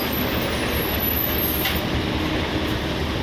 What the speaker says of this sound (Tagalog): Lalaki ng mga truck oh.